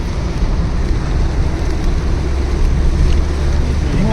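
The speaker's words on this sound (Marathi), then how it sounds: "पाणी बघा केवढं भरलंय एवढा पाऊस जोरदार पडतो इथे" Steady, dense roar of rushing water and rain noise, loud and continuous with wind buffeting the microphone, no voices.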